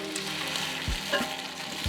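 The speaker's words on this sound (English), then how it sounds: "Just making that noise because I've kind of preheated the crock pot." Food sizzling and crackling steadily in a preheated crock pot, with a couple of soft low knocks and a clink from stirring, close and continuous, no talk.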